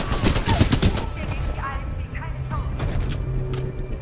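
Spitfire machine gun in Titanfall 2 rattles off a rapid burst of gunfire, loud and close, then gives way to game effects and someone talking.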